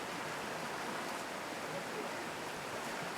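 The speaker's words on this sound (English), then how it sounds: "Beautiful river." A river in western Massachusetts rushes with a constant broadband wash of flowing water, moderately close and unbroken for the whole stretch, with no voices standing out.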